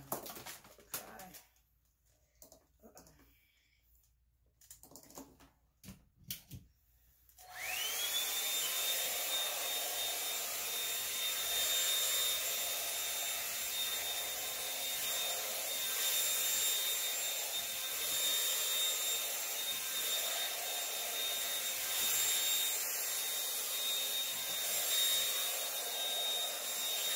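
A blow dryer used on natural curly hair switches on after some quiet rustling and then roars steadily and loudly, a continuous airflow whine that holds for the rest of the stretch.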